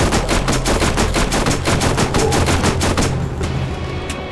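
Rapid, loud bursts of SMG fire in Borderlands, a level 4 submachine gun firing in a fast, even stream of shots for about three seconds before tapering into scattered echoing reports; no speech.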